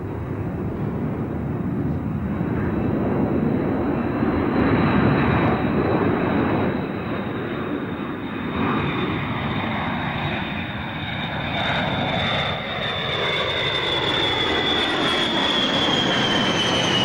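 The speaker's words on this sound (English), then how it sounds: "It can circle the Earth, the supreme embodiment of air power, the strategic bomber." Steady loud roar and drone of strategic bomber engines in flight, a continuous heavy rumble with a faint high whine rising toward the end, no voices.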